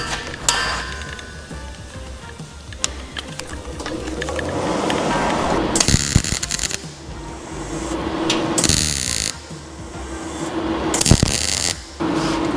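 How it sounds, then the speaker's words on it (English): Welding on a car bonnet panel during rust repair on an XA GT Ford Falcon tribute, a steady crackling buzz of the welder with short gaps and a few clicks, close and fairly loud. "I'll just weld it."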